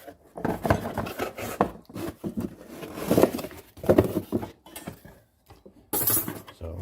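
Cardboard rustling and scraping close by as a Porsche 944 strut part is pulled out of its box, with uneven rubbing bursts separated by short quiet gaps.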